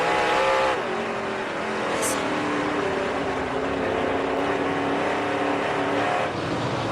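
Dirt late model race cars at full throttle on the Lernerville Speedway dirt oval during the 2009 World of Outlaws Late Models Firecracker 100, with a loud, sustained, roaring engine drone from several cars that holds steady throughout.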